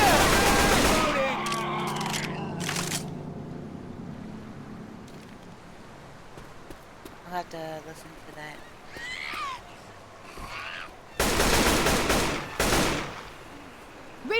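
Gunfire from a zombie shooting video game, with loud bursts of shots at the start and again near the end, and quieter stretches between them where a voice talks over faint game sounds.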